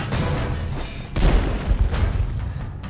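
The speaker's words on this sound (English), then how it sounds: "All right, time for grenade numero uno." A thrown grenade goes off in the Dishonored video game, giving a sharp, heavy boom after a stretch of low game ambience, followed by a second rumbling thud and a lingering low roar.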